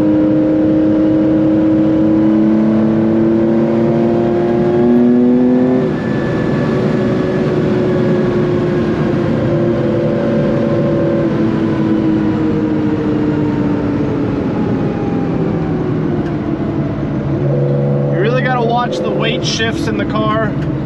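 A 1974 Porsche 911 RSR IROC tribute with an extensively restored engine pulls hard while driving, a loud steady engine drone with shifting pitch and a gear change near the middle, and voices speaking over it.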